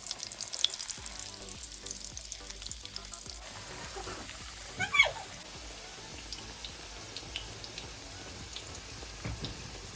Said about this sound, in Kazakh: Кезек-кезек пісіріп аламыз чебуректерімізді.